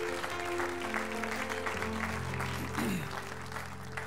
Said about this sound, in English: Give the Lord a great hand clap.